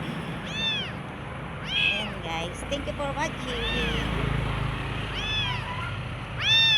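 An abandoned, hungry kitten cries in a series of repeated, high, plaintive meows, close and fairly loud, while someone talks over the outdoor background noise.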